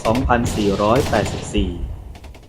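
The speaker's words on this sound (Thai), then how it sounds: "นั่นคือเสียงปืนที่รบพุ่งกัน" Sharp bursts of gunfire from a battle crack out at scattered moments beneath a steady speaking voice, with the shots close and fairly loud.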